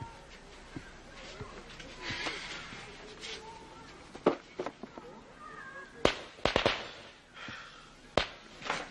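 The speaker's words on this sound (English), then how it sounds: "What was that? Fireworks, Sonny." Sharp distant Fourth of July fireworks bang and crackle irregularly, a few louder cracks standing out over quiet background ambience.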